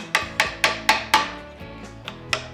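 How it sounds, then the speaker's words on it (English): A hammer drives a chisel to clean up the corners of a timber frame mortise, with about six sharp ringing strikes in a steady rhythm at close range, then a pause and a couple of lighter taps. "We can then take a chisel and clean up your corners."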